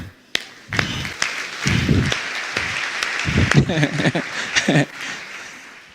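One person claps in short bursts during a church sermon on tithing, the sharp slaps close and fairly loud, mixed with spoken phrases between them.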